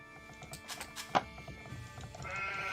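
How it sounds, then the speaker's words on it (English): A sheep bleating in a multiplayer strategy video game, one short bleat amid clicks, thunks and light game sounds, fairly faint with no talk. "Just neutral sheep? Is that what I found?"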